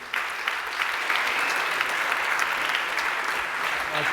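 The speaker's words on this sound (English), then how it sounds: "On l'applaudit bien fort," Audience at a UX conference breaks into applause for a professor taking the stage, starting abruptly and holding steady and dense.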